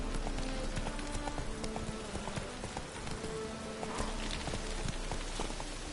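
Steady galloping hoofbeats of Roach, Geralt's horse in The Witcher 3, a continuous rhythmic clip-clop at a quiet level with faint ambient patter underneath.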